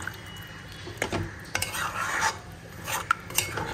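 Mushrooms and potatoes being stirred and fried in a pan: a quiet sizzle broken by spatula scrapes and metallic clinks against the pan at irregular intervals.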